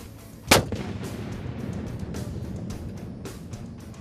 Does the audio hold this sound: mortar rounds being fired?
yes